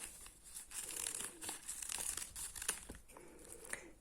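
Scissors cut a rose petal shape out of newspaper with soft, close, irregular rustling and crinkling of paper and faint snips, fairly quiet and with no voice.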